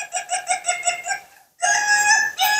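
A rooster crows in two clear, loud bursts close by, the first a pulsing, wavering call and the second a sustained high crow, separated by a brief silence, with no talking.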